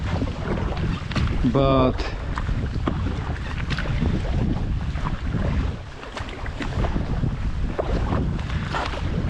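Solo canoe paddling on open water in the Scottish wilderness: steady wash of water and strong wind buffeting close by, with a brief spoken word partway through.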